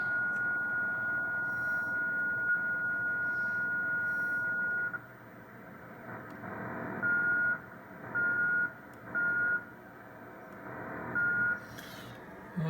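A Drake R4C radio receiver is heard during calibration with a watch-crystal board. A steady hum and a repeating high beep tone start and stop several times over a noisy background, and the receiver is close and moderately loud.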